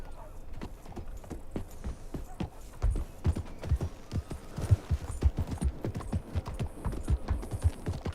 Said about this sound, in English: This is the thoroughbred horse.